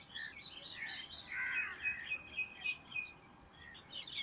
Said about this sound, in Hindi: परिंदों की चहचहाट।